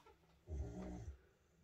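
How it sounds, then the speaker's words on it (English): A sleeping dog gives a single low, rumbling snore lasting about half a second, faint and close in an otherwise quiet room. "Oh, she really can snore"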